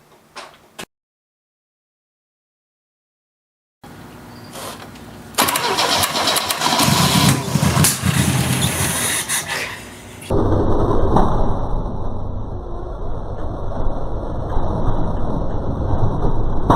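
An old Opel GT, long unused and filthy, is cranked over, giving a loud, close grinding churn that catches into a rough, raspy running roar while fire pops from the engine.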